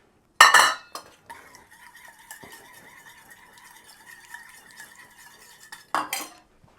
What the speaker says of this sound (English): I'm just going to transfer these to a bowl that was not in the oven.